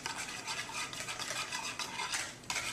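A homemade pink ice cream mixture, frothy and thick, is stirred in a bowl, making soft, close scraping and swishing strokes in a quick, uneven rhythm, with no talking.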